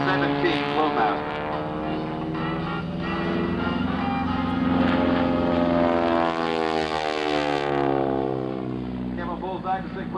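A propeller airplane at a World War II airshow drones overhead through an aerobatic loop, its engine pitch rising and falling steadily, heard beneath an announcer's continuous talk over the loudspeakers.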